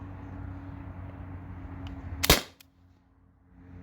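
A single sharp shot from an all-stock T4E TR50 paintball-style marker with stock barrel and firing pin, a loud crack standing out against a steady low hum, then quiet.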